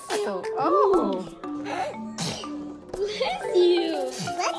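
A small child sneezes several times in a row, short bursts spread across the clip, with adults talking and reacting around the sneezes.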